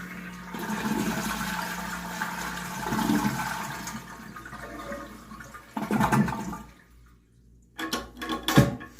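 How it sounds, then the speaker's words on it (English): A toilet being flushed to empty its tank before a fill valve replacement gives a close, loud rushing swirl of draining water, followed by gurgles and splashing drips as the bowl settles. "drain out your tank all the way"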